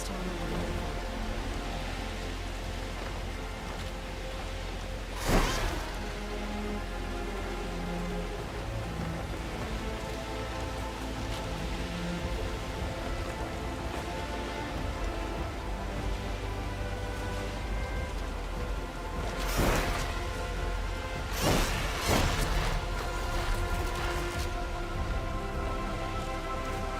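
Steady rain patters on surfaces in the video game Horizon Forbidden West, a constant even hiss with a few brief louder splashes or rumbles, no voices.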